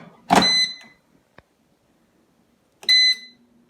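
Air fryer timer chirps after a five-minute cook of potato-crusted tofu nuggets: two bright electronic beep bursts a few seconds apart with a small click between, close and alone in a quiet room.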